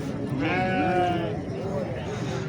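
Fat-tailed dumba sheep bleat at a livestock market in Talagang, several wavering, nasal bleats close by over continuous crowd noise, with people talking throughout.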